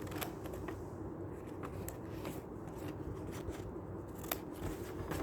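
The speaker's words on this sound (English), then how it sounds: "Like just cutting up a" Scissors snip through a square of paper in a quick run of crisp, close cuts, faint and steady with small sharp clicks.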